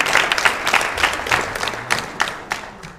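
An awards-ceremony crowd claps for under-15 national football team players, a short, fairly close burst of dense applause that gradually thins out.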